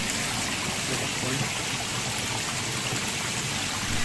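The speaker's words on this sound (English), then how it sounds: "Look at the way they've done the rocks with the waterfall." A garden waterfall pours over rocks in a steady, close, continuous rush of flowing water, heard alone with no talking.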